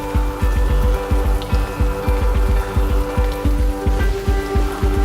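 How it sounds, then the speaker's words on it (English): Rain patters steadily on a shed's plastic roof near Hoddevik, Norway, a dense run of close, sharp drips and taps over a continuous wet hiss, with no voices. "Rain patters on the shed's plastic roof."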